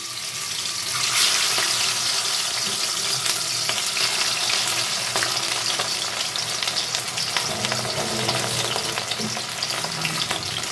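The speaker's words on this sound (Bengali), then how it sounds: "এখন আমি মাছগুলোকে ভেজে নেবো" Pieces of catla fish fry in well-heated oil, a loud continuous crackling sizzle with bursts of spattering close by, steady for several seconds without talk.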